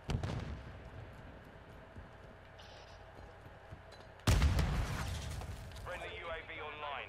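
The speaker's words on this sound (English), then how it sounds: "I think the mortar strike didn't kill anybody" Mortar strike explosions in a Call of Duty match: one sudden loud broadband blast lands midway, with rumbling debris and crackle trailing after it, over steady game noise and faint talk.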